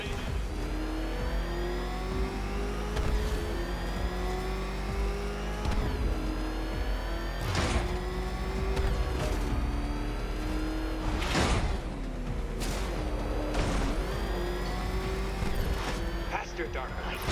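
Car engine in Batman: Arkham Knight revving hard at a steady pitch through a racing sequence, with whooshes and bursts of impact as it speeds along, under continuous game music and a taunting voice.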